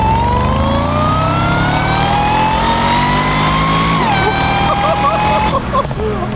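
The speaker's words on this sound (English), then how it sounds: "to finally hear that louder supercharger whine in action" Jaguar engine with a louder supercharger whine while driving, a rising high-pitched whine over the engine's drone as it accelerates, dropping briefly at a shift before climbing again, loud and close inside the car.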